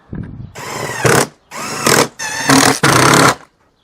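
A power drill drives screws back into a New Zealand police car, heard as four loud, close whirring bursts of a second or less, separated by short pauses, with the motor pitch rising and falling.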